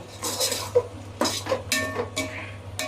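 A spoon scrapes and clinks against a metal pot while chicken is stirred into biryani, with several uneven strokes and soft sizzling underneath, close and moderately quiet.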